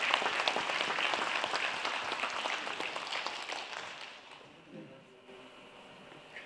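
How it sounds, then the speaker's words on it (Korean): Audience applause welcoming a lecturer to a memorial lecture for President Choi Kyu-hah in Wonju: dense, steady clapping from a crowd that fades out over the last two seconds, with a brief voice near the end. "박수로 환영해 주시기 바랍니다"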